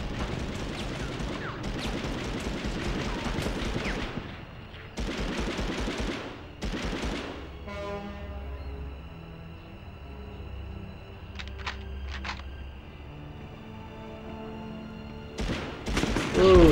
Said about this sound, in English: I have no idea who's shooting like crazy.